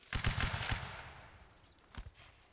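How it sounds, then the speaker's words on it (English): A crackling musket volley in the video game Napoleonic Wars during a line battle, a cluster of sharp shots up front, then a lone later report as the sound fades. "Very good shooting."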